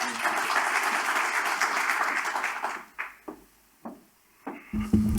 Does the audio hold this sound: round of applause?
yes